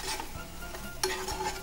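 Green chili paste being stirred into a frying prawn malai curry, with scraping and clinking of a spoon in the pan over a gentle sizzle, close and brief.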